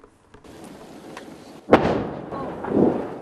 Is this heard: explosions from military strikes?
yes